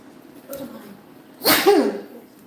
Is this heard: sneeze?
yes